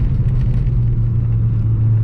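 A Chevy Beretta GTZ coupe climbs a steep uphill road in second gear, its engine holding a loud, steady droning hum from inside the cabin under strain, with no talking.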